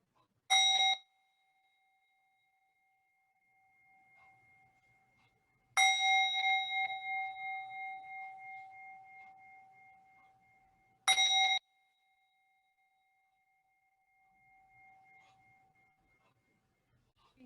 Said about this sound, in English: Let's begin this morning with some bells in celebration.